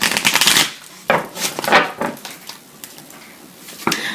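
Tarot cards being shuffled, giving bursts of crisp riffling and flapping that start and stop several times, fairly close and loud, with no talk.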